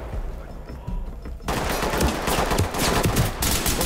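Bursts of gunfire in the tactical shooter game Ready or Not, a quieter stretch giving way to loud, sustained rapid shots and fusillade that fill the rest of the moment.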